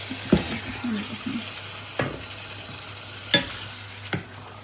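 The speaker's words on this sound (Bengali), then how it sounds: "মশলাটা খুব ভালো করে কষায় নিয়েছি, এবার দিয়ে দিব মাংসগুলো" Beef goes into spiced masala frying in a pot, with a steady low sizzle broken by a few sharp clatters of the spoon against the pan.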